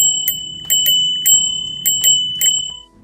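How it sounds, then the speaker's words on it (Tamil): A rolling-type bell on a rental bicycle rings in six sharp, bright metallic dings, spaced roughly half a second apart, each decaying quickly over a faint low background. "இது வந்து ரோலிங் டைப் காலிங் பெல்."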